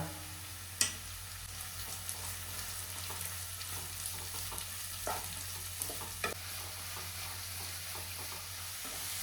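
Onions go into a pan with ginger and garlic for a Kerala cauliflower curry, giving a soft, steady sizzle under a low hum, broken by a few sharp clicks of a utensil against the pan. No one speaks.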